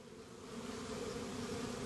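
A hive of honeybees gathered around a laying queen, giving a continuous low buzz, even and close, with no voices.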